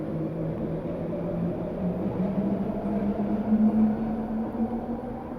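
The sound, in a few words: passing trains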